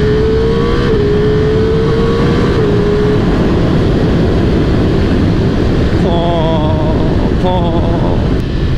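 Ducati Multistrada V4S adventure motorcycle, 170 hp and 240 kg, being ridden: a steady, loud roar of engine and wind runs throughout, with brief rising whine tones near the end.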